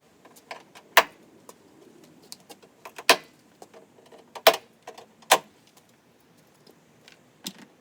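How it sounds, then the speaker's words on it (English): Stuck plastic tabs pried off a Mercedes ML350 W164 trim panel give a series of sharp, separate clicks and snaps at irregular intervals, close and fairly crisp, with faint handling rustle between them. "what I'm doing right now is just removing the tabs that were stuck on the panel of the trim"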